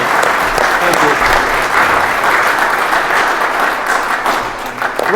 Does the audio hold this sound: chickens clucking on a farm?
no